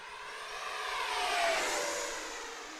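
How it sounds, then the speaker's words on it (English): A Freewing Vulcan 6s EDF RC jet rushes past overhead, its ducted-fan whine rising then falling in a smooth swell as it nears and moves away, with no talk. "I can actually hear all the sounds coming from the jet"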